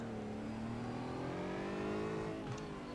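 Engine note of GT4 race cars in the iRacing sim game at Okayama as the pace car pulls off: a steady, continuous drone that rises gently in pitch, loud and close, with no talk over it.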